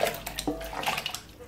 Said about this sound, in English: So I'm gonna add the meat